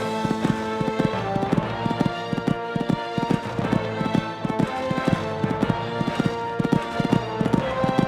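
A horse canters along a cross-country eventing course, its hooves beating a steady, rhythmic thud-and-clatter close by throughout, over a faint background of music-like tones.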